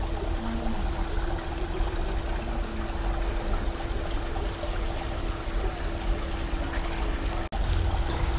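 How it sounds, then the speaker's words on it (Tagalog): A small waterfall in Baguio gives a steady, close rush of pouring water that stays even and continuous throughout, with no voices. "Waterfalls!"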